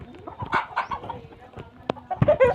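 Native breed hens and roosters in a backyard coop give a run of close, loud clucks and calls, with one sharp squawk near the end.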